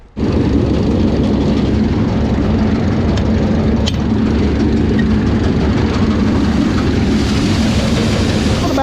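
Dump truck engine running while driving, a loud steady low rumbling drone with constant mechanical noise throughout, close and continuous without talking.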